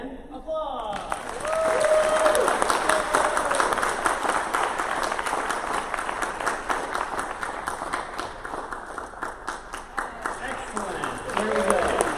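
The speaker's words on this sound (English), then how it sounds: "And applause." Sustained audience applause fills a recital seminar hall, broad and steady from the first second nearly to the end, with a brief spoken voice at the start.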